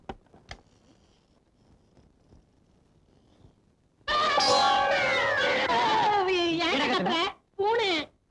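A cat meows loudly indoors, a long drawn-out wailing cry followed by a second shorter one after a brief pause, preceded by a few seconds of near silence with faint knocks.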